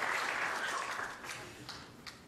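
A church congregation at Sunday worship claps to welcome new members who have finished their newcomer course, a dense wash of applause that starts full and gradually fades.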